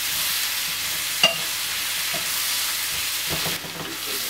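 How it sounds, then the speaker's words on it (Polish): Sliced peppers and onion stirred in a hot pan, a constant close hiss of frying with a few soft scrapes and knocks of the spoon, no talking. "I dodaję paprykę. I mieszamy to wszystko fajnie."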